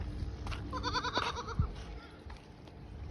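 Goats bleat repeatedly at a crowded livestock market in Sindh, their wavering calls rising over a constant murmur of background crowd noise.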